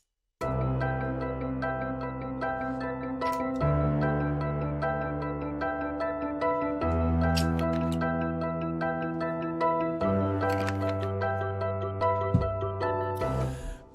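An FL Studio synth melody for an uptempo beat rides over a deep boat-horn tuba bass preset, sustained notes shifting every few seconds, with light percussive ticks and a crash near the end.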